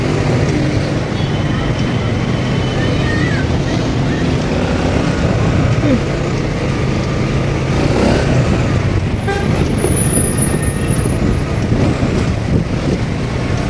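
Steady road traffic rumbles with engines droning, and a car horn toots at intervals over the constant hum, with voices talking now and then.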